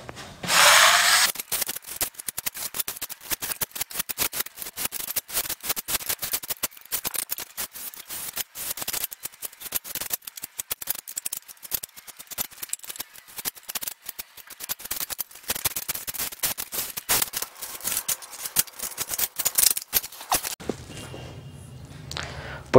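A second coat of wall putty is spread over a rough wall with a metal blade, giving dense, rapid scraping strokes in a steady rhythm that run close and loud for about twenty seconds before stopping.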